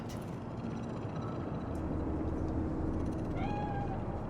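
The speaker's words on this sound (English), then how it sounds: "Fine-looking feline." A cat meows in Cyberpunk 2077's Night City, a few faint, short rising calls standing out over a low ambient city hum, with no speech.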